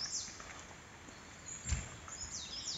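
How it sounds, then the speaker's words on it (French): Small birds sing faintly on an October morning beside the Lac de Pierre-Percée. Brief, thin chirps come and go over quiet ambient hiss, with a soft low thump partway through. "Ah, des petits oiseaux ce matin."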